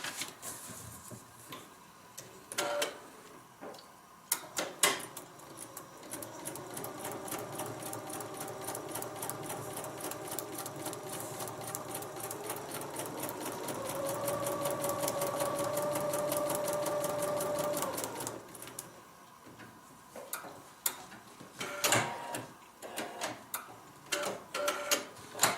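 A sewing machine stitches along the line on paper-pieced fabric for a log cabin heart block, a steady close whirring run of rapid needle ticks that builds and holds for several seconds, framed by scattered handling clicks and fabric rustle before and after.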